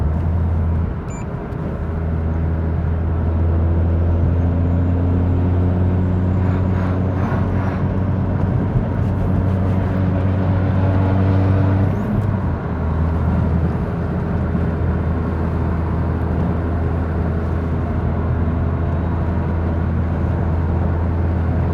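Turbocharged Mazda RX8 with a Renesis rotary engine on a dyno, a loud sustained drone that climbs in pitch as it revs hard for about twelve seconds, then drops back and holds steady at a lower, buzzing note.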